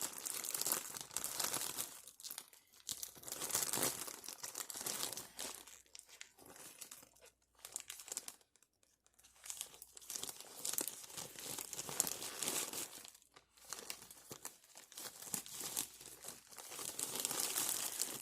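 Plastic mail packaging from Temu being cut open and handled, with continuous loud crinkling and tearing rustles in bursts and brief pauses, close to the mic, no talking.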